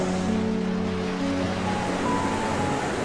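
Broad, steady wash of sea waves and surf, a continuous hiss and rumble with low hum underneath, fairly loud and without speech.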